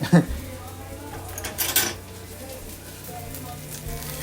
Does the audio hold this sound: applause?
no